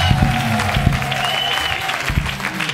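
A church congregation at a Sunday service applauds loudly and steadily, a dense wash of clapping with crowd noise throughout.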